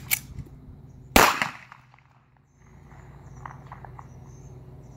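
A toy gun fires once, a single sharp close crack followed by a brief rattle, then quiet background with faint insect-like chirping.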